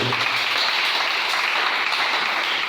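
A church congregation applauds to acclaim the Lord, with dense, sustained clapping from many hands filling the room at a steady level.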